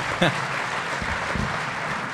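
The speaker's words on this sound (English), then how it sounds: "we'll ask you for a moment to hold your applause again" An audience at a conservative political event applauds, a steady wash of clapping that runs throughout with a voice speaking over it.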